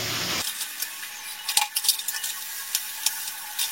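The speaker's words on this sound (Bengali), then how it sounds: "সবকিছু ভালো করে কষিয়ে নেব।" Cumin powder and Kashmiri chilli powder stir-fried in hot oil for a Bengali mourola fish curry with potato and aubergine, giving a soft steady sizzle with scattered scraping spatula strokes close by.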